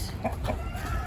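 Chickens and roosters at a busy Texas trade-days market give off a few short clucks over a constant low crowd rumble and a steady background din, moderately close.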